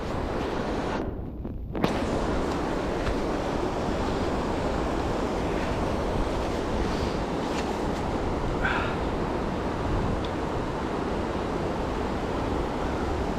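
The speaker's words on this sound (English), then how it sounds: "Low Bridge, Youghiogheny River flowing that way, Main Falls." Steady broadband rush of the Youghiogheny River flowing near Main Falls at Ohiopyle in January, constant and fairly loud, churning water with a brief gust of wind.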